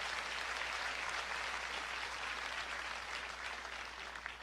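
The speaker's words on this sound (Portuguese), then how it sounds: "Salva de palmas para Jesus." Faint, distant applause from a church congregation, a continuous soft patter of many hands with a low hum beneath it.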